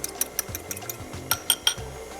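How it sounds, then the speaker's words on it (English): A whisk clicks rapidly against a bowl while beating two whole eggs with white rum and almond extract, with a quick, irregular rhythm of close, light taps. "I have 2 whole eggs, and I have a little bit of white rum and almond extract, and I'm going to whisk that together."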